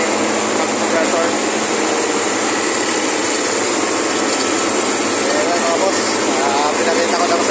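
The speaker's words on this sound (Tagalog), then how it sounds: "Pinakita ko lang sa inyo isang ginagamit natin compressor para sa ating G-Files machine" Compressor running on a 55-ton tube ice machine, a steady loud broadband hum and hiss filling the whole stretch with no breaks, close by in a noisy machine room.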